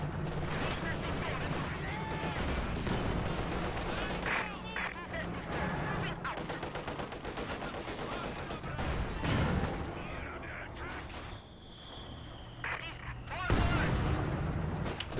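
Mortar and gunfire in the video game Company of Heroes 2, heavy booming impacts and rattling small-arms fire rolling continuously at battlefield distance, with voices talking over it and a loud blast near the end.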